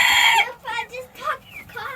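A chicken close by gives a loud crowing call, then a few shorter clucks and squawks in quick succession.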